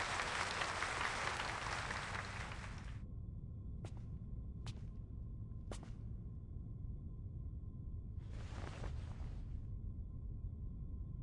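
Applause fills a hall after a speaker, a dense wash of clapping that cuts off abruptly, followed by a few sharp isolated sounds and another brief burst before quiet hum.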